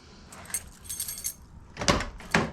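A bunch of several keys for a classic Nissan Z jangles close by in a few short metallic bursts, the loudest clinks coming near the end, with no voices.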